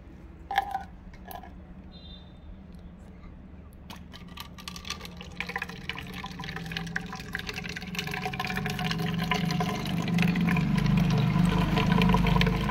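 A tap runs fast and steady, the water's rush building louder over several seconds as it fills a container, after a few faint knocks and clinks at the start, with no voices.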